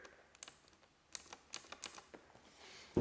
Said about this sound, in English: So this is a mechanical keyboard